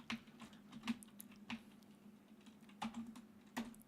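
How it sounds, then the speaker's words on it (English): A computer keyboard being typed on, soft scattered keystrokes with gaps between them over a low steady hum, fairly quiet. "And we'll type in transition settings."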